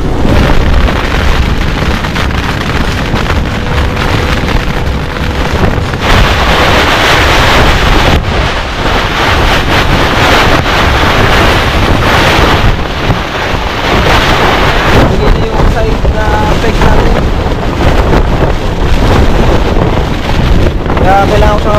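Strong wind buffets the microphone in a continuous loud roar, with rain and gusts during a super typhoon at a motocamping spot in Pagudpud, steady and close with no break.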